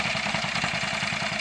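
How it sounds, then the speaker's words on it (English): A John Deere B farm tractor engine idles close by, a low, even putt-putt pulsing at a quick steady rhythm with no voices. "And that is just his farm tractor."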